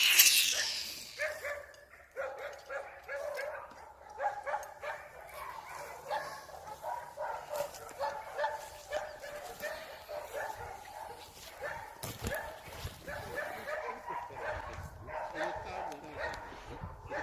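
Hunting dogs at a club kennel in Yakutia, Russia bark, yip and whimper in repeated bursts, some close and loud, others further off, with a voice talking at times.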